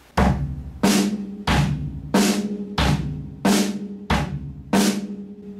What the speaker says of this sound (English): you're going to add the bass drum on 1 and 3, and the snare drum on 2 and 4